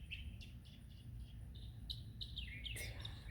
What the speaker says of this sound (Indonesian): Jadi burung-burung di halaman rumah ini teman-teman, sampai tengah malam jam 12 malam pun mereka masih bunyi.